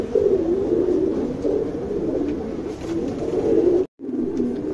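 A male Dumara Egdar pigeon coos close by in a continuous, rolling throaty warble, with a brief silent break near the end before the cooing resumes.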